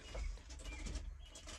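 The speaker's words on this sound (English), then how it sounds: "a bird flew up off the top of the TV" Soft bird cooing, like a pigeon or dove, plays from a TV indoors amid a steady low room rumble, repeating faintly throughout.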